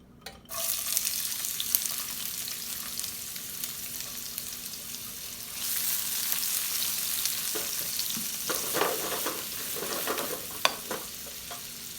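Onions dropped into hot oil break into a loud, steady sizzle that swells once partway through, with scattered spoon scrapes and stirring clatter near the pan.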